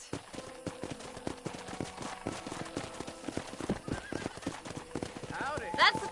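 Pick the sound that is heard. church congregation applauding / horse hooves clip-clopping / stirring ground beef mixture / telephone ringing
horse hooves clip-clopping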